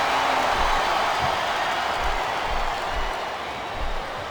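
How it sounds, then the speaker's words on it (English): Steady roaring arena crowd noise from the WWE SmackDown vs Raw 2007 wrestling video game, a dense continuous wash of cheering with faint low thumps underneath. "It sounds like this capacity crowd has something on their minds, Taz."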